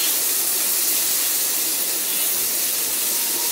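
Steady loud sizzle of potol, potato and eggplant frying with spices in a hot pan as they are stirred, a continuous hissing spray with faint scrapes, no voices.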